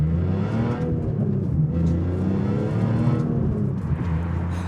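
A BMW E46 M3's 3.2-litre straight-six, which revs to 8,000 RPM, drones steadily under load on a public road, a smooth continuous engine note rising and settling with no talking over it.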